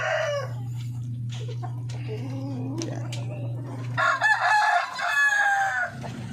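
Chickens including a chocolate orpington hen cluck steadily nearby at a backyard poultry pen, and a rooster crows loudly toward the end, with a low steady hum underneath and faint voices.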